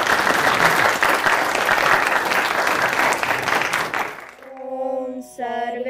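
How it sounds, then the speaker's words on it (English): An audience at a documentary screening event about Kasturba Gandhi gives full, sustained applause for about four seconds. It then stops abruptly and a sung chant begins. "Please give it a big round of applause for Cynthia."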